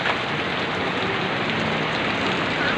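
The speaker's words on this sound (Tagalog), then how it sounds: "ang lakas pa rin ng ulan" Heavy rain pours down steadily, a dense, loud, unbroken hiss of water hitting surfaces all around.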